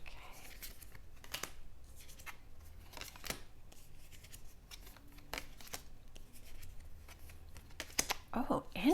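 Tarot cards are shuffled by hand in quick bursts of crisp riffling and flicking, close and fairly quiet, with brief pauses between runs and a louder flurry at the end.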